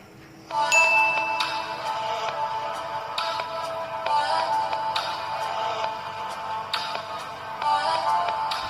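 An incoming call on an Android phone plays a custom video ringtone, a bright chiming tune in repeated phrases that starts suddenly after a moment of quiet and continues at moderate volume without talk.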